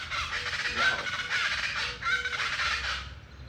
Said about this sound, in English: there's some noisy birds here.